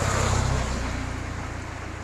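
Heavy rain pours down in a dense, steady hiss that fills the air for a couple of seconds, close and constant, with no voices.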